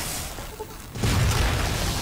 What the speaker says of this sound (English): Whoa, they explode into goo.